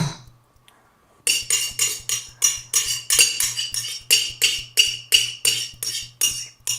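Metal spoon scraping a crab imperial mixture into a dish, a steady run of sharp, close clinking scrapes in quick repeated strokes against the bowl.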